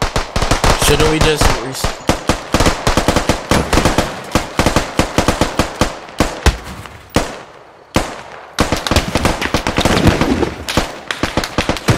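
Rapid bursts of automatic gunfire in the Squad video game shooting out an enemy vehicle's tires, loud and close in dense clattering volleys with brief pauses, while a player speaks over the shooting.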